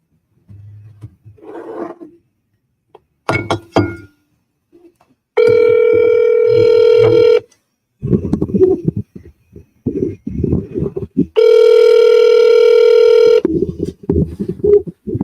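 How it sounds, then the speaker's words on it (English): A telephone call is placed: quick dialing tones and bursts of noise, then two long, loud electronic ringback tones separated by pauses, with some brief talk and rustle between the rings. "Mr. Salazar, answer the phone, dog."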